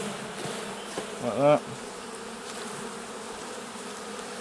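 Honey bees are shaken off a hive frame during a beehive inspection, giving a low steady buzzing hum with a brief louder swell of agitated buzzing. A voice speaks briefly.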